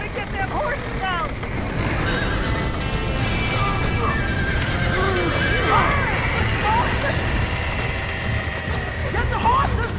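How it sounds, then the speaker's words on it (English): Horses neigh and whinny repeatedly amid a chaotic fire scene in Red Dead Redemption, with hoof clatter and steady background commotion, and shouting voices mixed in throughout. "Somebody get them horses out!"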